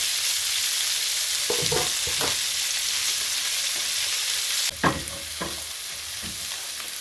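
Onion and garlic hit hot oil in a pan and fry with a loud, constant sizzle, punctuated by a few spatula stirs and scrapes, with no talking.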